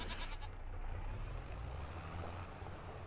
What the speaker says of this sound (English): There's a baby goat in there.